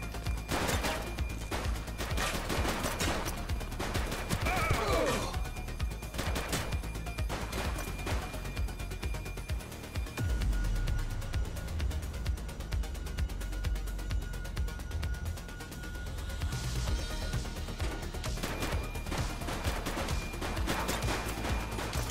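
Rapid bursts of gunfire from a police shootout in the video game The Precinct, loud and sustained with dense automatic volleys and crashing impacts over a steady game soundscape.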